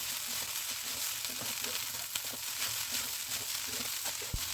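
Rice stirred together with fried potatoes and flat beans in a hot pan, a steady close sizzle with soft scraping strokes of the spatula running throughout.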